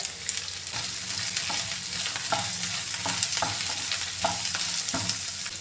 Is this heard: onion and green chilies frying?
yes